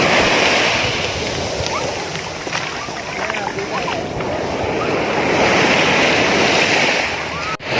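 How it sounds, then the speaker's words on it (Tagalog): Big ocean waves crash and wash continuously onto a beach at Pagudpud in the Philippines, loud and close, with voices calling out over the surf. "Ayan na, malaki na yung alon."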